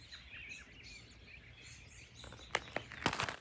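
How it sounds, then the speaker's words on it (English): Birds sing and chirp outdoors on a homestead farm on a cold spring morning, light calls scattered over a quiet background, followed by a few sharp crunching knocks near the end. "Listen to all the birds."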